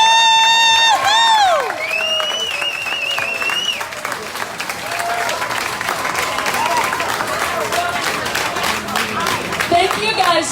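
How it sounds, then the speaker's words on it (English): Crowd at an outdoor police-support rally breaks into loud applause with cheers and whoops, sustained clapping mixed with shouting voices that continues for several seconds, with some speech and chatter over it. "Can everybody just stand and give a big applause to our men and women in law enforcement"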